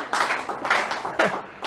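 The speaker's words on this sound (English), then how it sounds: "men, we should clap now, celebrate Jesus" A church congregation claps together in a few loud, uneven bursts of applause, with short breaks between them and no talking.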